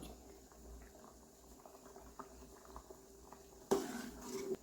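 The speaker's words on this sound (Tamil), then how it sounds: "இந்த அளவுக்கு கொதிச்சுக்கணும்." Potato curry simmering in a pot, Kongu Nadu style, with a steady soft bubbling patter that grows louder and busier toward the end, no voices.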